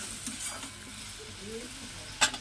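Potatoes and spices sauté in a pan for a tengra fish curry, giving a soft, close sizzle with light stirring scrapes and one sharp utensil clink near the end.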